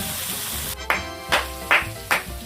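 Steady crackling sizzle of pork frying on a hot grill, punctuated by several rhythmic scraping or clacking sounds, close and moderately loud.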